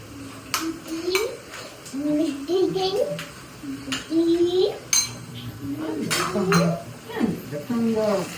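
A metal spoon stirs ginger-garlic paste in a cooking pot while preparing goat leg paya curry. Light clinks and scrapes repeat under continuous talking.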